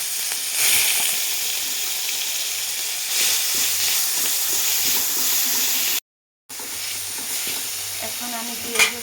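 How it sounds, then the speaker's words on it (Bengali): Onion paste hitting hot oil for a spicy potato and soybean curry gives a steady, loud sizzle and hiss with stirring scrapes, a brief break midway, then the frying resumes. "এখন আমি এটাতে দিয়ে দেব পেঁয়াজের পেস্ট দিয়ে দেবো।"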